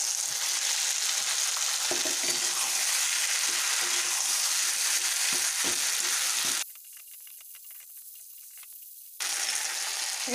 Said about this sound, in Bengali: এবার এই আলুগুলো দিয়ে দিচ্ছি।